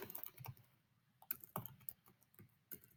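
Quick, uneven clacking of keys on a computer keyboard, close and fairly quiet, with short pauses between bursts.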